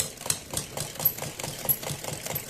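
A sewing machine stitches a patchwork kurti neck, a quick, even mechanical whir with soft repeating pulses, fairly close and heard alone without talk.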